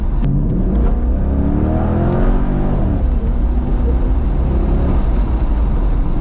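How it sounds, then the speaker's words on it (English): A 2000 Chevrolet Corvette C5 V8 engine revs up and back down, loud and close, with rising and falling harmonic whine over a deep rumble, heard from inside the car. "when you rev this car out, there's no reward"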